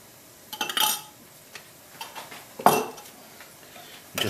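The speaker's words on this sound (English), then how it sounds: "Just mix this together." Spoon stirring mint sauce into Greek yogurt in a bowl, a few scattered close clinks and scrapes of metal against the dish with quiet gaps between strokes.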